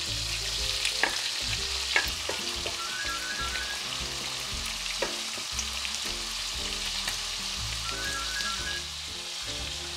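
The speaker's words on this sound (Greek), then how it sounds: "Έχουμε κόψει 3 κρεμμύδια σε μεσοφέγγαρο και έχει ζεσταθεί το λάδι." Three onions sliced into half-moons sizzle steadily in hot oil, with a busy crackle and occasional stirring clinks, close up and without talk.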